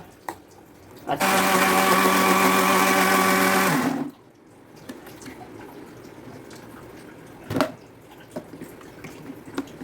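A kitchen mixer blends a homemade ice cream mixture with a loud, steady whirring roar that lasts about three seconds and then cuts off, leaving quiet room sound with a few faint knocks.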